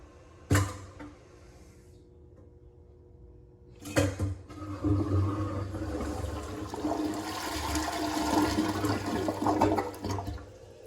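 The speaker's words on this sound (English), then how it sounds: "That flush mechanism's broken, but that did great" A broken-mechanism toilet flushes in a park restroom: a sharp clunk, a pause, then another clunk launches a loud, sustained rushing gush of water that roars steadily to the end, close by.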